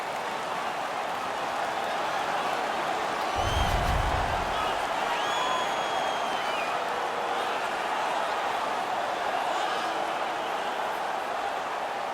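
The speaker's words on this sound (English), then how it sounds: "The crowd is so pumped right now." An arena crowd at a playoff hockey game between the Winnipeg Jets and Montreal Canadiens roars continuously after a fight, a dense, loud wash of cheering and clapping with whoops, heard under steady voices throughout.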